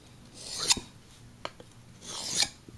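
Pocket knife blade honed on a 1200 grit sharpening stone: three short scraping strokes with rasping edges, quiet and close, separated by brief pauses.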